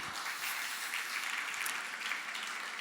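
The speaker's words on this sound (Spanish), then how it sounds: "Aplausos para Serafina y gloria a Dios por ella" Dense, steady applause from a church congregation honouring a 103-year-old nun, a continuous wash of many hands clapping at once for the full stretch, with no speech over it.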